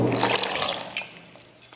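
Water splashes and pours into a glass for a vitamin C juice, a brief bright liquid gush that tapers to a trickle, close and fairly loud with no talking.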